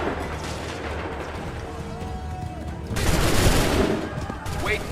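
Musket volley fire in the Assassin's Creed 3 video game, a dense crackling burst of many shots rising midway over steady battlefield din, with a commander's shouted order heard.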